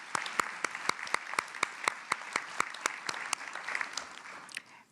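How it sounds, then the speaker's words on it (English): Applause from an audience at a desegregation recognition event honoring the planning committee, a steady crowd clapping with sharp individual claps standing out over about five seconds before tapering off. "So applause to all of you for making this happen."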